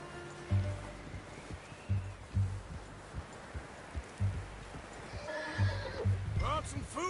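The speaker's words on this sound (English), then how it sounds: "You should really tether that horse, Arthur." In the Red Dead Redemption video game a horse snorts and whinnies near the end while hooves clip-clop in scattered, heavy thuds throughout, with voices and ambient outdoor noise in the background.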